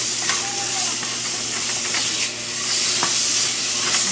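Garlic sautés in a pan for orange chicken sauce. A loud, close sizzle and hiss is broken by scraping stirs, with a brief dip in the middle and no talking.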